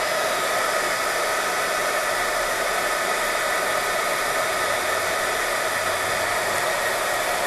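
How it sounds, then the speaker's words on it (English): A heat tool blows a steady, loud whoosh of hot air over saturated craft paper, holding a constant broadband roar with no pauses for the whole stretch. "because that is really saturated, I am going to dry it with my heat tool."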